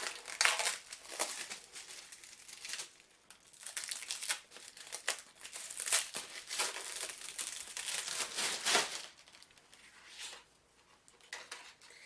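Plastic product packaging is crinkled and crumpled by hand as it is unwrapped, in irregular close-up bursts of rustling with brief quieter pauses between handlings.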